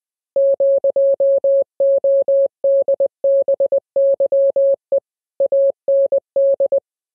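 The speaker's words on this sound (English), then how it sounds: "this is not valid Morse code, but it can be played anyway" Steady electronic Morse code beeps, a single mid-pitched tone keyed in short dots and longer dashes in irregular groups with brief gaps, clean and loud with nothing else audible.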